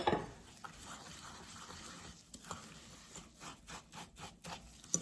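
Oatmeal cookie dough with egg and chocolate being stirred by hand, a quiet close scraping and squelching that turns into a steady rhythm of short strokes toward the end, with no talking.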